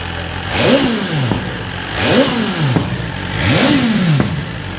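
A BMW S1000 RR sport motorcycle engine, stock, revs three times in a steady rhythm, each rev rising sharply then falling back to idle. Loud and close, no talking.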